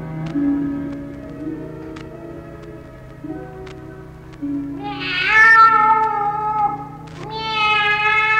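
A cat meowing within a staged radio play, with a few drawn-out, rising meows standing out clearly in the second half over a low, steady hum.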